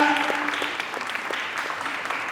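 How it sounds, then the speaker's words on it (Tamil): Audience clapping at a Sunday school rally in Kanyakumari, a dense steady wash of hands sustained for a couple of seconds with a faint tone underneath. "எல்லாரும் சத்தமா கைதட்டுங்க, சத்தமா கைதட்டுங்க"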